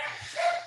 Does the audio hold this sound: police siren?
no